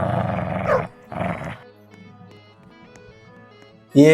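A dog avatar in the Roblox video game lets out two loud growling bursts up front, followed by quieter game sounds and a final loud burst.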